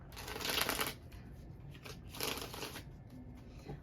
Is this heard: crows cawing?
no